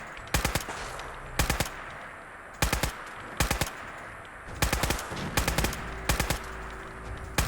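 Gunfire in Fallout 4, repeated short bursts of two or three rapid loud cracks separated by brief pauses, close and sharp over a steady background hum with no talk.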